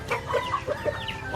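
A native hen clucks close by in a short series of soft, rounded clucks over steady farmyard background noise.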